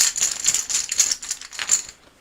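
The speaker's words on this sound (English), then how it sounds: "So let's shuffle these up and see how I do." Board game tokens are shuffled inside a cloth bag, giving a continuous close clicking rattle of small pieces knocking together for about two seconds, with no talk.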